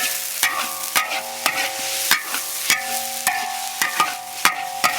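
Green vegetables stir-fried in a wok with oil, a spatula scraping and tossing in a steady rhythm of sharp clatters over a continuous close sizzle, with no talk.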